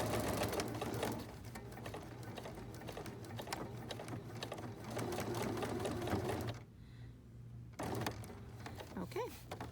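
A sewing machine stitches a bar tack while a mitered corner is being sewn, running in rapid buzzing bursts up close, pausing briefly near the end before starting again.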